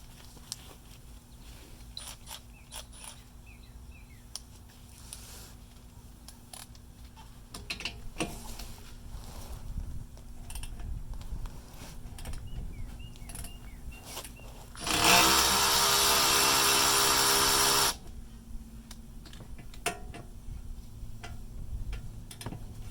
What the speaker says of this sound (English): I'm going to use the Milwaukee ratchet, see if that works